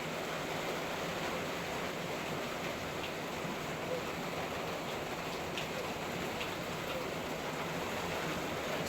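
Heavy rain pouring down, a dense, steady, even roar of drops beating on surfaces, close and continuous throughout with no talk.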